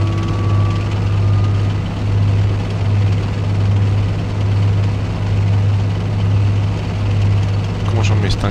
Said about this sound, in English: the helicopters are retreating